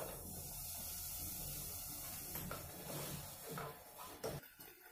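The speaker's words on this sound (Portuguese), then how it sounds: "eu vou começar colocando o meu bacon que está em cubinhos para dourar" Diced bacon fries in a hot pan with a soft, continuous hissing sizzle, fairly faint, and a few utensil clinks near the end.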